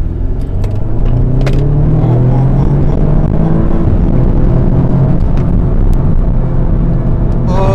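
An Audi S3 with 310 hp accelerating hard, its engine a loud, close, steady roar with rising tones that holds throughout inside the car.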